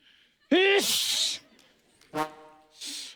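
A person sneezes loudly once up close, then a second, shorter sneeze follows a moment later, with a sharp breathy burst each time.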